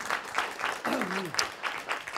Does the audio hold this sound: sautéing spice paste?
no